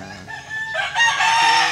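A Plymouth Rock rooster crows on a poultry farm in Cebu, one loud, close call that rises and holds through its drawn-out, harmonic-rich notes. No speech is heard.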